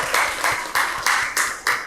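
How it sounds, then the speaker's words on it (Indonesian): A brief round of applause in a classroom, steady clapping from a small group with rhythmic swells, close and fairly loud. "Tepuk tangan dulu untuk penampilan kelompok 1."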